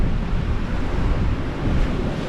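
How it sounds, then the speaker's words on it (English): Ocean surf washes over oyster-covered rocks at night in the bush, a continuous loud rush of churning water with wind buffeting the microphone, no voices. "This is where the waves are coming up here though"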